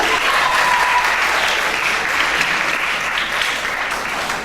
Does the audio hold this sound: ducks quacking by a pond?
no